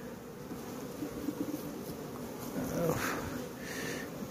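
Honeybees buzz around an opened hive with laying workers, a soft steady drone close by with faint rustling and no clear speech.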